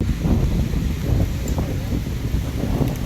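Wind blows hard across a Maltese beach at Ghadira Bay in Mellieha, a steady broadband rush that buffets the microphone for the whole stretch.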